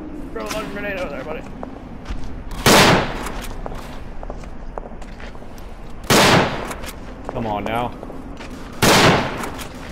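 Gunfire in the game Day of Defeat: three loud, sharp bursts spaced a few seconds apart, with voices chattering between them.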